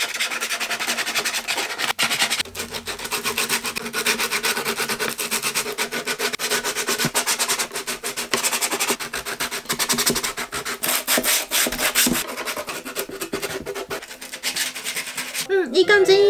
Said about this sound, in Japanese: 今指のところがちょっとこうザラザラギザギザしてるから、これをサンドペーパーで綺麗にしたいと思います。